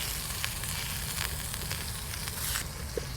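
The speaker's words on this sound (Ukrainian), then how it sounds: "смажемо фаршик" Minced meat sizzling in hot butter in a pan, a steady close frying hiss with small crackles and occasional stirring scrapes, no voices.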